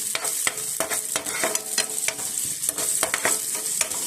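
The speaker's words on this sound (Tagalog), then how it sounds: "Pagkatapos natin igisa itong mga sibuyas at bawang guys" Onions and garlic sautéing in a hot pan, a bright continuous sizzle punctuated by rapid rhythmic scrapes and taps of the stirring utensil, close and without talk.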